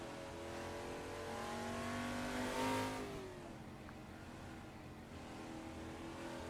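A Group C touring race car engine in Assetto Corsa revs and holds a steady high drone, swelling as it accelerates then easing off, with no voices.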